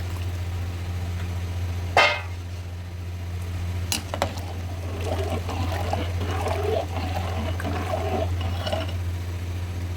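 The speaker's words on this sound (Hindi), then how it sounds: "पानी बॉईल हो गया, अब इसमें चावल डाल देते हैं।" Soaked basmati rice slides into a pot of boiling water, giving a sharp splash and pour followed by a steady bubbling simmer over a low constant hum, close and moderately loud, with no talking.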